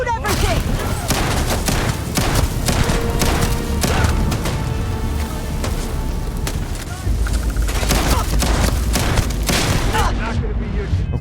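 Gunfire in Starfield: a dense, continuous fusillade of loud, rapid shots and impacts that runs through the whole stretch, with booming hits underneath. Voices talk over the battle.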